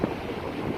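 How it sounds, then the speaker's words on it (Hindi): Fast-flowing flood water rushes through the Kasho stream beneath a bridge after heavy rain, a steady broadband roar close by with no break. "बहुत ही बहाव स्पीड में है पानी।"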